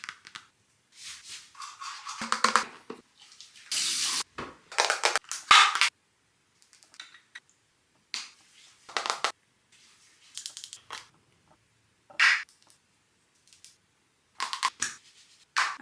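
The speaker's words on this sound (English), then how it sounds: "Should we do some little ASMR taps to get ready?" Short bursts of crisp ASMR tapping and crackly, rustling taps come in irregular clusters separated by brief silences, close and fairly soft, with no talking.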